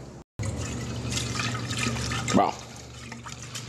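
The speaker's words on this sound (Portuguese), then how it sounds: "tô abrindo bem devagarzinho a torneira pra não puxar as cascas" Beer wort from a Witbier brew drains slowly through a fermenter tap left barely open to hold back husks, a steady liquid trickle with a brief louder gurgle and a short spoken word.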